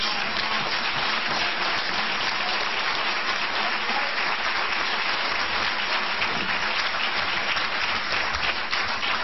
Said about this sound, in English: that applause comes from not the working press